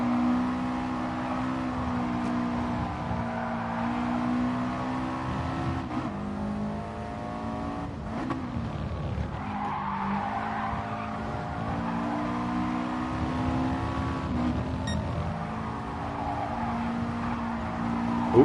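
A Subaru Impreza race car laps Spa in a racing game, its engine droning steadily with harmonic whine rising and falling through gear changes, with brief tyre scrub through corners, close and continuous throughout.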